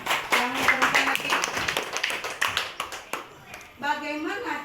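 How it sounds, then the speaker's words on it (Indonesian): Schoolchildren clap together in a classroom, a brief burst of quick claps in unison that fades out, with children's and a teacher's voices talking around it. "tepuk tangan"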